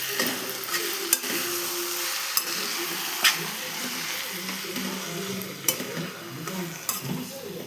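Fresh jawla, tiny shrimp, sautéed in a kadhai, giving a steady close sizzle with sharp scraping clicks from the spatula stirring every second or so.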